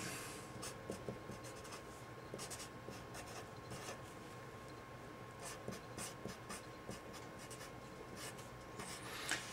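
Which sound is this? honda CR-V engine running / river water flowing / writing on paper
writing on paper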